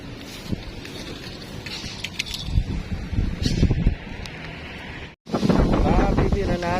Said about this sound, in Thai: ลมกำลังมาฟ้าก็มืดนะครับผม